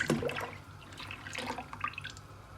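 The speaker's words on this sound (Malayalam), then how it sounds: "ഇനി നമുക്കിതിലേക്ക് പാലൊഴിച്ച് കൊടുക്കാം." Thick double-cream milk is poured into a pot for making ada, giving a soft, close liquid splash and trickle in short bursts over quiet kitchen background.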